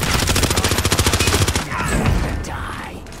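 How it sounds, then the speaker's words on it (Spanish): Rapid automatic gunfire in a mountain firefight, a fast run of evenly spaced loud shots for about a second and a half, then a heavier blast and rumbling echo fading out. "Mira, están disparando uno que tenemos aquí arriba en la montaña, Carlos."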